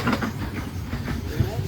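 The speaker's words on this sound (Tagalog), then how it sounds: "Train. Maliit na train." A small train rolls past at Wulai, Taiwan, a brief close rumble with rhythmic clattering wheels that carries on throughout.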